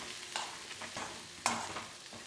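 Mayonnaise being stirred into chopped vegetables in a bowl, a few soft wet squelching strokes spaced irregularly, quiet and close with no talk.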